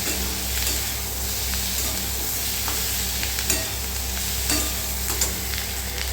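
Pizza topping sautéing and being stirred in a pan, a steady close sizzle with scattered scrapes and clicks from the utensil, no voices.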